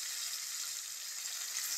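Pomfret fish frying in hot oil, a steady bright hiss and crackle of sizzling that stays even and continuous throughout, close and moderately quiet, with no voices.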